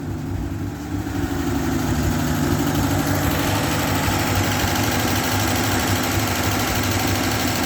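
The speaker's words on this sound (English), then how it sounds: "See if we can't get her to idle down just a little bit more." An old vehicle's engine runs at a steady, rumbling idle close by, continuous and loud throughout with no voices over it.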